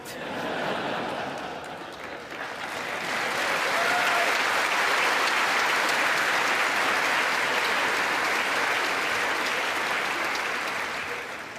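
Sustained applause from a large crowd filling the US Congress chamber during the Japanese Prime Minister's 2024 speech, swelling after a couple of seconds and holding steady, with a few voices faintly under it.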